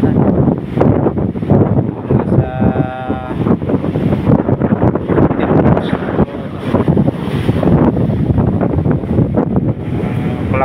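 Strong wind from Typhoon Marce buffets the microphone at the Maconacon seashore in heavy continuous gusts, roaring and rumbling low with a faint whistling tone partway through, no talking.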